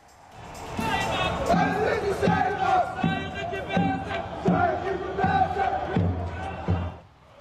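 Mauritanian football fans chanting and cheering as they enter the stadium for an Africa Cup of Nations match, a loud crowd of voices shouting in rhythmic bursts with drum-like thumps, close and continuous.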